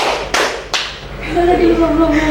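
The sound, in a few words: audience clapping in a clap game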